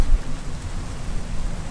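Steady rain in the modded hardcore survival video game Minecraft, a dense even hiss of falling water, loud and continuous with no talk.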